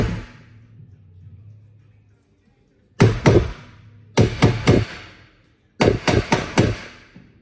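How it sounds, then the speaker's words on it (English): A small copper mallet taps a gearbox down onto its mounting plate on a Haas machine in three close bursts of sharp metallic knocks, three or four strikes in quick succession each, with fading machinery hum before the first burst. "use this small copper mallet just to tap it down"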